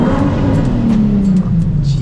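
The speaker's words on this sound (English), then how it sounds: "A lot of people say 350Z sounds pretty trumpety." A Nissan 350Z HR engine accelerates while pulling out of a parking garage, giving a loud, close, continuous droning exhaust tone that holds steady across the whole stretch with no voices.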